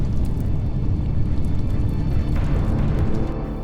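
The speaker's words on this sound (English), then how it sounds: "First, there is an explosion, and the explosion, which has the force of an atom bomb every couple of seconds" Mount Vesuvius eruption explosion: a loud, continuous low roar and rumble, dense and turbulent throughout, with no breaks and no voices.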